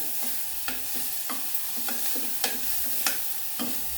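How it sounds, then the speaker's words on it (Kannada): Drumsticks and onion fry gently in oil over a low flame, a soft steady sizzle broken by regular scraping strokes of a spoon stirring the pan, close and unaccompanied. "ಈಗ ಸಣ್ಣ ಉರಿಯಲ್ಲಿ ಫ್ರೈ ಮಾಡ್ತಾ ಇದ್ದೀನಿ"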